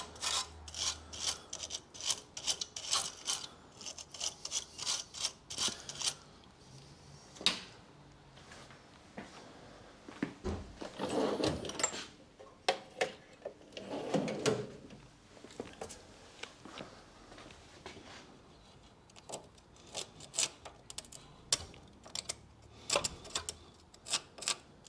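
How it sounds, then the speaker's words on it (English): Wrench work on a 2010 Mazda 2 1.5 petrol, removing a 21mm nut from the track rod end: close, repeated metallic ratcheting clicks in quick bursts, broken by a few scraping rubs and pauses. "Get that nut off."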